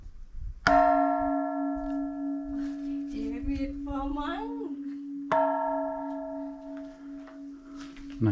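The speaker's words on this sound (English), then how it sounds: "That's a big bell." A large bell at a Buddhist cave temple, Wat Tham Patihan, is struck twice, each stroke ringing out in a long, deep, humming tone that slowly fades, with faint voices murmuring between strikes.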